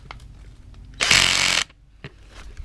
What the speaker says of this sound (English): This is the easy out drill that's supposed to be easy to use.